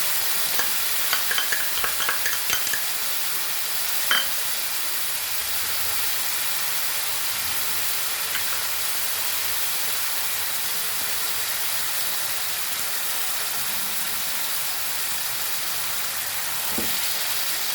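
Prawns in tomato and chili sauce being mixed in a hot pan: a long, even, hissing sizzle, with quick spoon scrapes and clinks bunched near the start and a few isolated knocks later, heard close.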